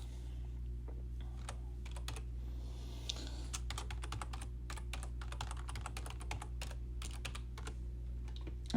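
Someone types on a computer keyboard, entering a password: irregular soft key clicks, sparse at first and then quicker, heard close over a steady low electrical hum with no talk.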